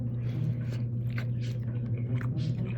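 Someone biting and chewing a piece of garlic butter steak up close, soft wet squishing and crunching bites over a steady low hum, with no talking.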